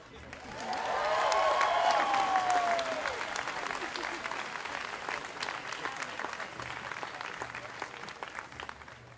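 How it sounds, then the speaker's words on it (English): An outdoor college commencement crowd in Hartford claps, and a loud voice over the speakers is heard early on. The applause then settles into a broad, steady patter of many hands at moderate distance. "if you are happy that we are outside, please clap"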